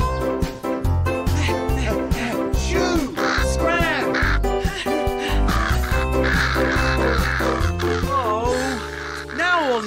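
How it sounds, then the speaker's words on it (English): Cartoon crows cawing as they eat wheat, their calls mixed into a loud, busy musical score with voices, steady and dense throughout. "The crow's eating the wheat"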